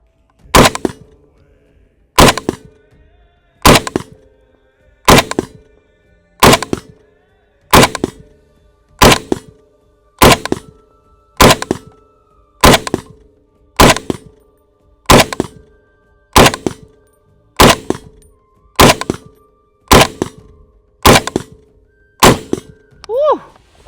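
SCAR 20S rifle chambered in .308 fired outdoors, about fifteen loud, evenly spaced shots roughly every one and a half seconds, each crack trailed by a ringing echo off a nearby truck.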